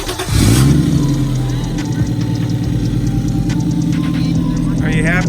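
A 1JZ-engined car starts up and settles into a steady, loud idle close by, its even rumble running continuously after a brief surge at the start.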